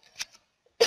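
A man coughs at close range, a short muffled cough followed after a pause by a sharper, louder burst at the end.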